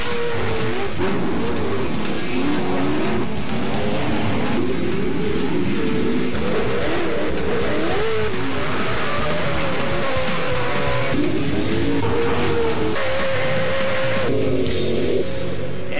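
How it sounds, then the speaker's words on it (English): Pro Light off-road race trucks at a TORC championship event, engines roaring loud and continuous with overlapping passes, surging revs and tire scrabble throughout, no talk. "we are back to racing in the Pro Light class"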